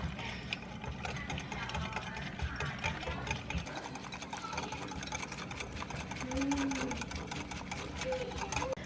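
Rapid, rhythmic metal whisk strokes rattling against a bowl while a baked potato soup mixture is beaten smooth, steady and close throughout.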